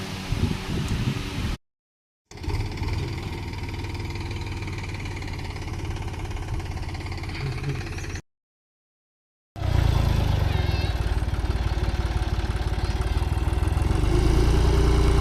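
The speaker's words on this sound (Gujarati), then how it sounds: "ખાતર તાણવા લોડ રહ્યું છે" A loader's engine drones steadily while loading manure on a farm, a loud continuous rumble broken by two brief silent gaps.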